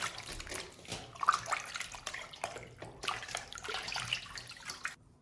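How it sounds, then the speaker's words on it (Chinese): Pork hind leg meat is rinsed in a bowl of clean water, with splashing, sloshing and dripping in irregular bursts, close and fairly quiet, stopping abruptly at the end. "接下来加入清水，用清水把肉给它清洗干净。"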